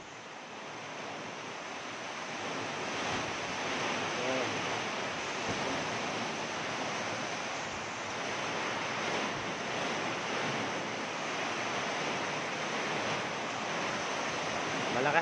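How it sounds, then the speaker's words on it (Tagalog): Typhoon wind and heavy rain roar in a constant, dense wash of noise, loud and unbroken throughout, gusts buffeting the microphone, with no one speaking. "Malakas ng ulan, malakas pa ang hangin."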